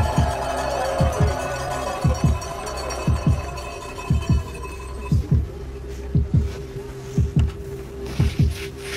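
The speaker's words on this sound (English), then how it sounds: "52 is his resting heartbeat." A resting heartbeat thumps in a steady, slow rhythm, about eight low beats over a faint electronic hum, each pulse short and muffled, with no one speaking.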